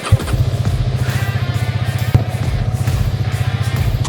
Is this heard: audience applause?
no